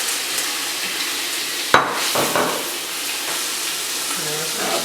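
Bacon sizzling in a hot pan with rosemary, a loud, steady crackle and hiss throughout, with one sharp splatter burst early on.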